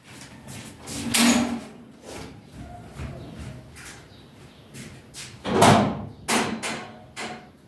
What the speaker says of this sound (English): I'm just going to go and open the door.